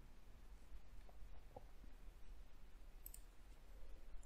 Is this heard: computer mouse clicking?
yes